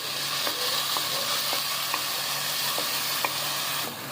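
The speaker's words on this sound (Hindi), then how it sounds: "इसको हमने ग्राइंड कर लिया है और इसमें डाल देंगे और इसकी अच्छी तरीके से भुनाई करनी है" Ground onion paste frying in hot oil for mutton yakhni, an even continuous hiss with a rhythmic series of light spoon taps and scrapes about every half second, close and unbroken by speech.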